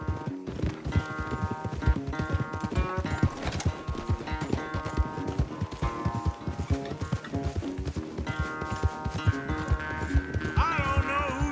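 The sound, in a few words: horse hooves galloping in a race, from video game Red Dead Redemption 2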